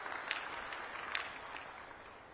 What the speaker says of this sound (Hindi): एक जोरदार ताली बजा दीजिए सब लोग इस बात के लिए